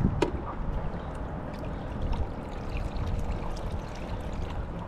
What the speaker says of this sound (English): Pour a little out, pour some new water in.